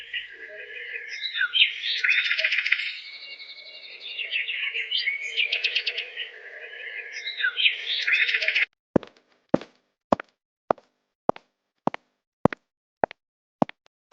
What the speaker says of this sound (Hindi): यहाँ खड़े रहकर चिड़ियों की चहचहाट सुनना एक थेरेपी जैसा फील देता है।